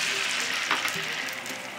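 Diced bacon crisping in a pan with fish stock for sea urchin carbonara gives a steady, close sizzle and spatter, with a brief stir or scrape partway through.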